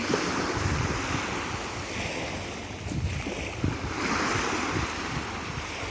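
Black Sea waves surge and wash ashore at Odesa in a continuous roar, mixed with gusty wind buffeting the microphone.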